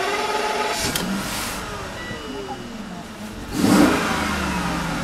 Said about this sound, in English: Engine sounds beautiful and revving very easy.